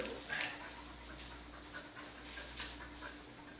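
Norwegian Elkhound puppy panting in quick, soft breaths with a brief high whimper, close by over a steady background hum.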